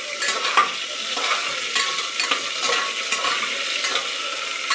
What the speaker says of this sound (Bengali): একটু লাল লাল করে একটু ভেজে নিই।